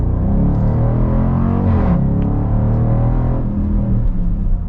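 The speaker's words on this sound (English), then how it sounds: "let's get our full-blown acceleration with the Tow and Go" A 2021 Dodge Durango R/T Tow N' Go with its Hemi V8 accelerating hard, a loud, steady engine roar that rises in pitch, drops at an upshift and climbs again, heard close up from inside the vehicle.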